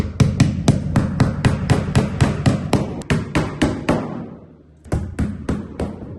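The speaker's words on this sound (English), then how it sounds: "Next up, I'm just going to install some drywall nails right here." Hammer drives drywall nails into a Tile Redi shower base, a fast series of sharp, loud strikes with a short pause near the middle before several more blows.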